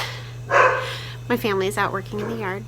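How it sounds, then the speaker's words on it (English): A dog barks in a short burst indoors near the microphone, followed by a person talking over a steady electrical hum. "that's my dog."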